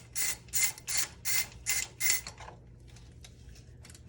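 A ratchet wrench on an extension loosens an old spark plug on a 2000 Honda CR-V, giving six evenly spaced clicking bursts up close, then faint scattered clicks.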